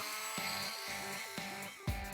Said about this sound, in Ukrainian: цією самою насадкою, якою ви щойно різали метал, ви можете легко різати дерево